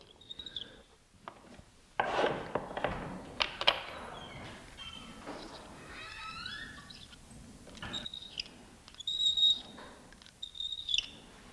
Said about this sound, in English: Now we're going to start deburring inside and outside of the case necks